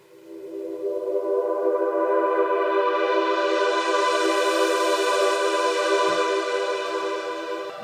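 A lush synth pad from Steinberg's Pad Shop holds one sustained chord that swells in gently, brightens as upper harmonics open, then fades slightly, smooth and alone with no rhythm.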